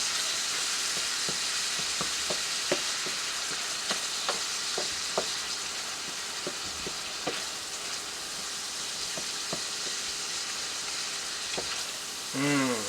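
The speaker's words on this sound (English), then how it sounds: "Next, we're gonna add 3 cloves of chopped up garlic in. Mix that in." Ground beef fries in a pan with chopped garlic under a loud, constant sizzling hiss, broken by sharp scraping taps as it is stirred, close up and without talking.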